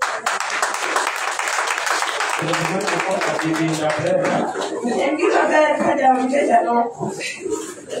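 A church congregation at a Jesus Power Mission service claps in sustained applause, loud and close, mixing with voices and cheering that rise over the clapping partway through.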